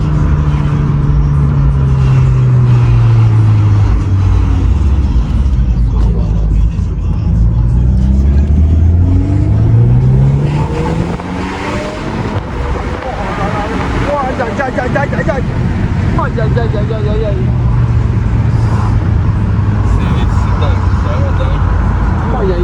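VW Golf 8R fitted with an Akrapovic exhaust revving hard, engine pitch sweeping up and down repeatedly with turbo whoosh and crackling pops, close and loud, with an excited voice speaking over it.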